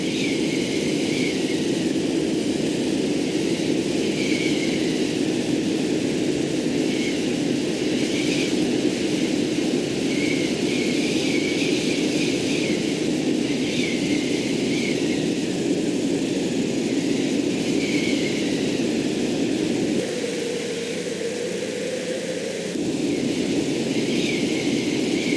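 An ultralight aircraft engine in Flight Simulator X drones steadily and loudly, a constant buzzing roar that runs the whole time and dips briefly near the end as the throttle eases back. No voices are heard.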